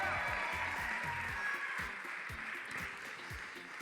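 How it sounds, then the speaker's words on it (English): Audience applause at a men's amateur and pro bodybuilding show in Arizona, a steady wash of clapping that carries on under some low background talk and crowd noise throughout. "Let's give him a round of applause."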